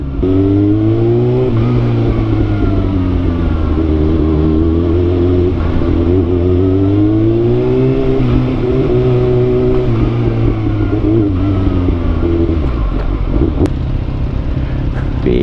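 A car engine runs steadily and close for the whole stretch, its pitch rising and falling with gentle revving as it is driven and maneuvered into a parking spot, with no talk.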